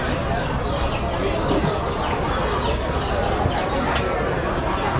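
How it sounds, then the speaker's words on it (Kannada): Giriraja chickens cluck at a hatchery and training centre, a busy flock of overlapping clucks and calls with a brief sharp squawk, heard together with people talking in the background. "ಗಿರಾಜ ಕೋಳಿಗಳು ಮರಿಗಳು ಕೊಡ್ತಾರೆ ಇಲ್ಲಿ"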